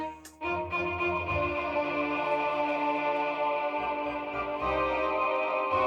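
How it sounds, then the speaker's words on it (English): A guitar note through an H90 pedal's Q-Wah into a ducked delay blooms into a filtered, vowel-like wah sweep, trailed by echoing delay repeats that wash together into a sustained, shifting tone. "Q-wah effect going into a duct delay."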